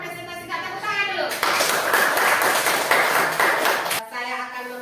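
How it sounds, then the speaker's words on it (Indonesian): Classroom applause with hands clapping in a dense, steady burst for a few seconds, preceded and followed by children's talking. "tepuk tangan dulu"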